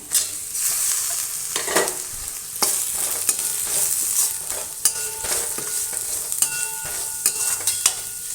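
Onions frying and being stirred in a pan for chicken bone and drumstick kuzhambu, a steady close sizzle broken by repeated scraping strokes of the spoon, with no voices.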